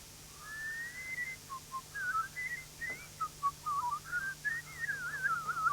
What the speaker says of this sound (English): Can you just whistle something for me?